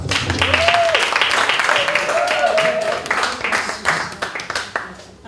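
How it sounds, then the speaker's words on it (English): An audience at a business awards evening applauds, steady dense clapping from many hands that carries on for several seconds and thins toward the end. "Give him a hand of applause."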